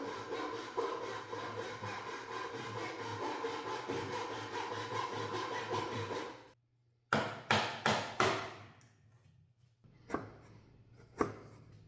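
Dovetail pins are hand-sawn into wooden boards for a small display, with a long run of quick, even rasping strokes up close, then a pause and a few separate bursts of sawing.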